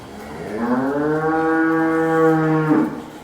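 A buffalo moos once, a long, loud, close bellow with a drawn-out tonal call that holds steady for about two seconds before breaking off, heard alone without talk.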